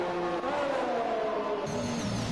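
Mercedes Formula 1 car in a racing video game spinning off at the British Grand Prix, a sustained engine whine with tyres skidding and squealing, moderately loud and alone.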